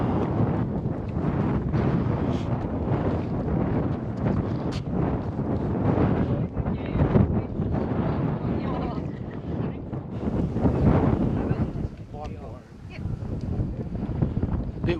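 Strong gusts buffet the microphone on a high lookout in Kakadu, a continuous rough roar rising and falling for fifteen seconds, with a voice briefly audible beneath it.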